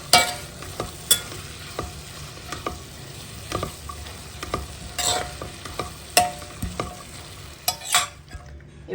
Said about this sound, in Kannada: ಇವಾಗ ಈರುಳ್ಳಿಯನ್ನು ಚೆನ್ನಾಗಿ ಹುರ್ಕೊಳ್ಳೋಣ